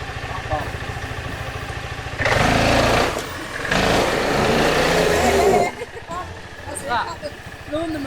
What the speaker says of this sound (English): Mow the lawn.